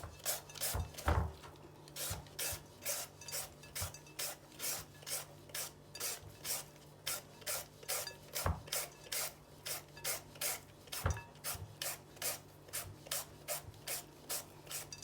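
A knife slicing mango for a Thai prawn mango salad, steady rhythmic rasping strokes repeated evenly at close range, with a few louder knocks among them.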